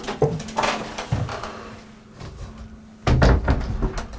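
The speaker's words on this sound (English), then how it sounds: "You've got this natty shower door which separates it from the loo bit." A shower door aboard a Rustler 42 sailing yacht is swung and knocked against its frame, giving several close wooden clunks and taps, with a louder bump near the end.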